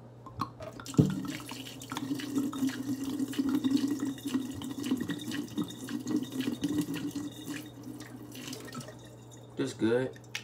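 Water poured out into a sink, a sustained trickling splash with drips, and someone speaking over it near the end.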